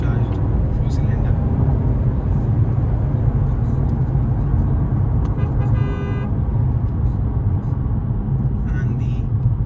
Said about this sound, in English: This is obviously a turbocharged 4-cylinder.